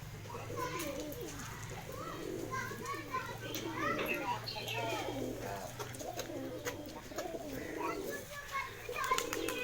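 Rampuri pigeons coo in a low, repeated burble, mixed with other birds and children playing and chattering nearby; people talk throughout.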